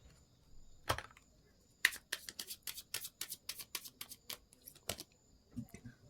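Tarot cards being shuffled by hand, a quick run of crisp riffling bursts after a single opening flick, close and fairly quiet with no voice.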